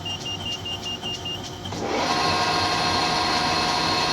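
A metal lathe starts up and turns a chucked motorcycle wheel spindle for a custom Ironhead springer chopper, a steady whirring machine drone rising after a brief lower hum and continuing loud and even.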